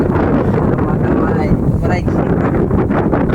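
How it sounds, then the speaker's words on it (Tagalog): Strong wind buffeting the microphone on a lakeside fishing outing in Oriental Mindoro, a loud, constant roaring gust with low rumble, up close and over brief, muffled speech. "Mahangin mga partners"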